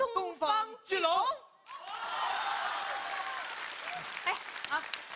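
Audience applause at a Chinese crosstalk stage show, a steady wash of clapping filling most of the clip after voices speak at the start, with scattered cheers over the clapping.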